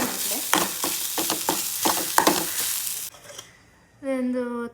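Curry leaves and turmeric powder fry in a pan for a mango curry, with several rhythmic stirring scrapes over a sizzle that then fades out, followed by a brief tonal voice-like sound near the end.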